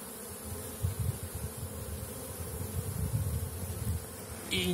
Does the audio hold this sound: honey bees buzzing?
yes